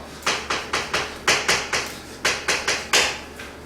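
Students in a math class clap in a steady rhythm, about a dozen evenly spaced sharp claps heard close, with no talking over them.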